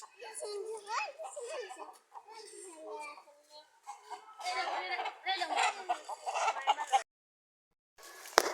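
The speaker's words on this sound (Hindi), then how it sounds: "दूसरे मुर्गे भी आगे उड़ते हुए आ रहे हैं।" Chickens cluck and squawk nearby while children talk and shout over them, the sounds rising in busy bursts before a sudden cut.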